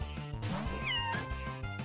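Catswort, a cat-like creature in the fan-made game Pokemon Uranium, lets out its synthesized meowing cry during a battle, a short pitched electronic call heard clearly over the looping game music.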